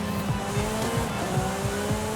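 A Lamborghini SC20 in the racing game Forza Horizon 5 braking hard, its tires squealing in repeated wavering bursts over a constant engine roar, loud and close.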